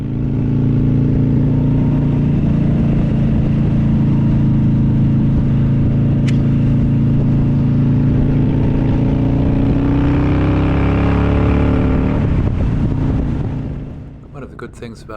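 Harley-Davidson motorcycles on a group ride along open, level Mangawhai Road rev up with a loud, rising engine roar over heavy wind rush, then ease off near the end.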